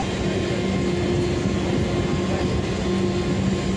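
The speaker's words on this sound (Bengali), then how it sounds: "ফাইনালি নিমঙ্গাইয়া থেকে ট্রেনটা ছেড়ে দিল" A steady, broad rumble of a train departing New Bongaigaon and running continuously, with a faint low hum throughout and no voices.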